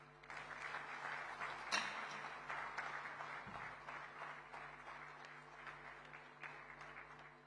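A hall at a chamber of commerce national convention in Mumbai applauds the chief guest's address, with continuous crowd clapping that sounds faint and distant and holds steady throughout.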